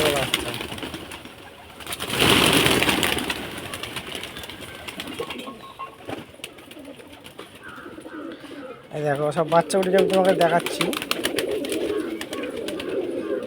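Madrasi pigeons with their chicks coo repeatedly at close range, the calls broken up by someone talking over them and some scuffling and wing movement.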